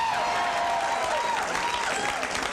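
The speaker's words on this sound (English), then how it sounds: "So that's an applause break." Audience applause at a stand-up comedy show fills the room in a steady, dense wash of clapping that stays loud and even throughout, with a few faint voices mixed in.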